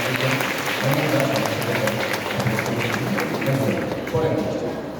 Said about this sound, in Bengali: তাহলে একটা জোরে হাততালি দিন।